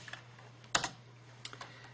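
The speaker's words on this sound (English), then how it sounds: "I'm typing them just so we don't have to scroll back and forth." Keystrokes on a computer keyboard, a quick double burst of clicks followed later by a few lighter scattered taps, close and fairly quiet over a low steady hum.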